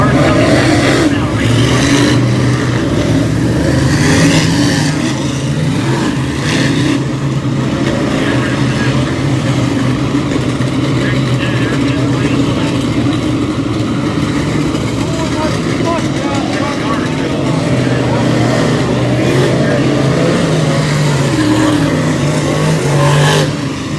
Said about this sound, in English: All right, cars coming back now.